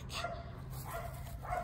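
A six-month-old guard dog puppy in protection training gives three short, fairly faint barks spaced about a second apart over a low steady background hum.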